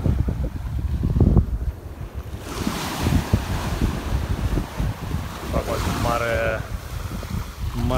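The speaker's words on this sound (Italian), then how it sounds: "C'è anche vento da terra, quindi non ci sono onde." Offshore wind blowing from the land across a calm Mediterranean-like sea on the Algarve coast in Portugal, a steady rushing gust over the microphone with faint water underneath, continuous for the whole stretch.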